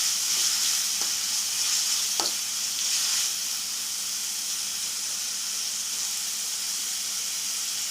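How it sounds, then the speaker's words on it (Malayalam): Rasam with salt and tomato being stirred in a frying pan, giving a continuous loud sizzle and hiss with a couple of brief utensil scrapes early on, close and without talk. "എന്നിട്ട് നന്നായിട്ട് ഇളക്കുക. ഇതിലേക്ക് കുറച്ച് ഉപ്പിടാം. ഇട്ട് നന്നായിട്ട് മിക്സ് ചെയ്യുക."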